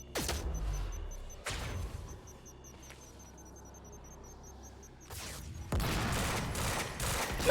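Grenade blasts and gunfire in the video game Quantum Break: a heavy low explosion opens, then a quieter stretch, followed by further loud bursts and rattling shots near the end.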